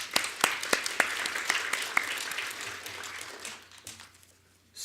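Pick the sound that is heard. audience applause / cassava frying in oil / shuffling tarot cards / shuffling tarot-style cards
audience applause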